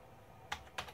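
Computer keyboard typing while entering G-code at a machine controller, two quiet distinct key clicks about a quarter second apart over a soft background hum.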